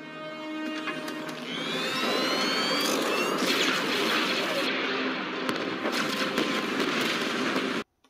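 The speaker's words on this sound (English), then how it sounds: "at which point Rampart gives the order for what is possibly my favourite scene of this entire season. Open fire" Bombardment scene from Star Wars: The Bad Batch, Season 1 Episode 15, with a dense, loud barrage of blaster fire and explosions under whining tones, continuing without pause before cutting off abruptly near the end.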